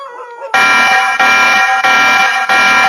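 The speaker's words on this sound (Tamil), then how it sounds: "அந்த வீட்டை பக்கத்துல வரும்போது அந்த சிசிடிவியோட அலாரம் அடிக்குது" A CCTV security alarm at a house blares in steady repeating pulses, loud, electronic, harsh and continuous, with no voices.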